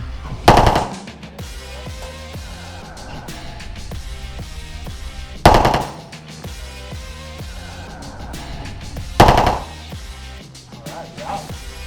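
Machine gun bursts at the Lock & Load shooting range in Miami: three loud, sharp bursts spaced a few seconds apart, each ringing into a reverberant indoor tail over a steady background hum.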